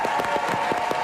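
Audience applause welcoming a guest onto a live show, a full crowd clapping in a dense, steady wash with faint rhythmic pulses, alone with no talking.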